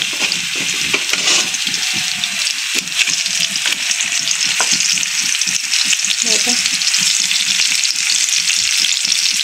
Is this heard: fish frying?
yes